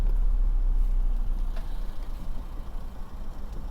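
A car engine idles low and steady in first gear while waiting at a Tim Hortons drive-thru, a continuous close rumble with no voices.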